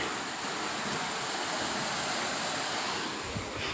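Steady rushing water flows through a channel in an orchard, a broad continuous wash close by with no voices.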